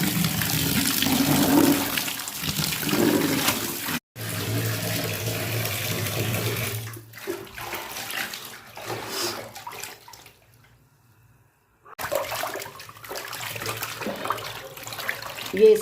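Water runs from a tap in a home bathroom during cleaning, a steady splashing rush that stops briefly twice, with a lower flowing hum underneath and no talking.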